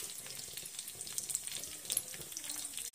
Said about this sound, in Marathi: त्यात 1 कांदा आणि 1 टोमॅटो आणि 2 हिरव्या मिरच्या बारीक चिरून त्याही तेलात परतून घ्यायचं आहे